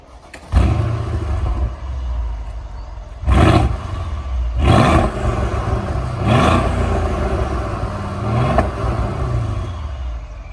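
Mercedes-AMG 5.5 litre V8 bi-turbo M157 engine in a W166 AMG, loud close revs: several sharp blips rising and falling over a deep rumbling idle, with a hard roar between them.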